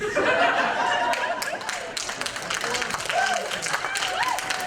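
Audience at a live stage talk clapping and laughing together, a dense wash of applause with scattered chuckles and a few voices rising through it, fairly loud and continuous.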